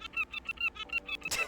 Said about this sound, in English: Hello, Mr. Seagull.